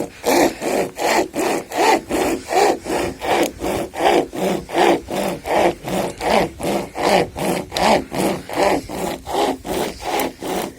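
Steady back-and-forth strokes of a small hand saw cutting through wood beside a lakeside campfire, about two strokes per second, close and loud, continuing evenly for the whole stretch with no talking.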